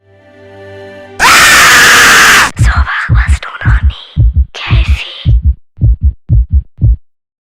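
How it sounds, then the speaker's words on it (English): A screaming zombie-like figure from a German energy drink commercial lets out a loud, piercing scream lasting about a second, followed by a series of rhythmic thumping beats like a pounding heartbeat. "a screaming zombie-like figure bursts onto the screen, right into your face"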